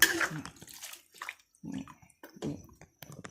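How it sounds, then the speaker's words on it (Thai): Water poured into a cooking pot on the stove, a few brief splashing bursts with pauses between, close and moderately loud. "เติมน้ำไปอีกนิดนึง"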